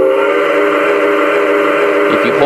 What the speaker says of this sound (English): And then your whistle horn button.